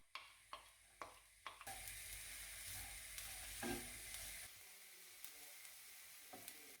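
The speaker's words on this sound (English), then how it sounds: "heat the butter and oil in a pan. Add in the chopped shallots and cook gently to soften." Chopped shallots sizzle gently in butter and oil in a pan, giving a soft, steady frying hiss that follows a few light taps and is heard close with no talking.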